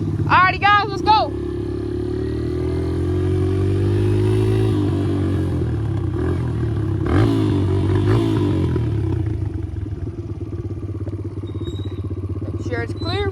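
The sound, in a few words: dirt bike engine while riding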